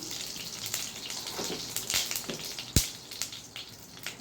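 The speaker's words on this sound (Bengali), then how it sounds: "ফুটা করে জিরে দিয়ে দিলাম" Cumin seeds hit hot oil in a pan and set off a fairly quiet, uneven crackle with scattered sharp pops, including one stronger snap partway through.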